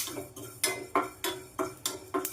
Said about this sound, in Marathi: त्यासाठी प्रथम धणे भाजून घेऊया